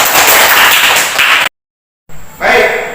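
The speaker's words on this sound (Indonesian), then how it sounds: "Oke, kita berikan tepuk tangan untuk Rizky." Students in a Grade VII junior high school classroom applaud a classmate with a burst of dense clapping, a brief cutoff, then more clapping, loud and close.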